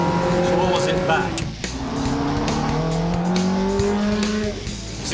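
A Ferrari races hard along a track in a timed challenge, its engine loud and close, pitch sweeping up and dropping back through gear changes over a steady roar.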